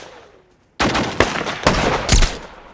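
Gunshots from the war film Lone Survivor: after a brief near-silence, a loud burst of gunfire rings out with several sharp, heavy reports at uneven intervals over a dense, reverberant tail.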